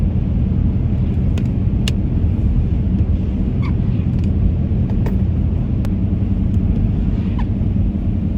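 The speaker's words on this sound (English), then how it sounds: "A lot of traffic coming out of Hillsdale" Road traffic near Hillsdale after an ice storm, a loud continuous low rumble of cars driving past, with a few faint clicks and squeaks on top and no talk.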